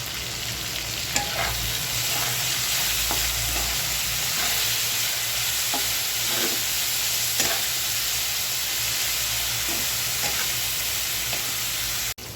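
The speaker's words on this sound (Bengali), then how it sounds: "চিংড়ি শুটকিটাও 2-3 মিনিট সুন্দর করে আমি তেলের ভিতরে ভেজে নিচ্ছি।" Dried shrimp frying in hot oil while being stirred in a pan, a steady close sizzle with intermittent scraping strokes of the spoon throughout.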